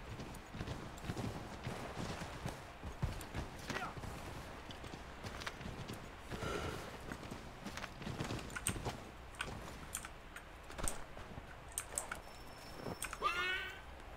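Hoofbeats of a horse galloping through snow in Assassin's Creed III, a steady clip-clop rhythm running throughout under ambient game sound, with a brief whinny-like burst near the end.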